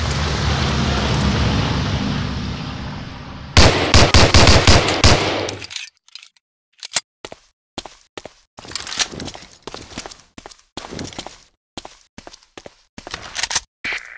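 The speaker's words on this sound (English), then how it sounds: "Try a couple of shots on that target with your 45" Pistol shots from a .45 fired at a target on a range in the Medal of Honor: Allied Assault shooter, after a stretch of steady rumble and a burst: a long series of sharp, separate bangs at an uneven pace.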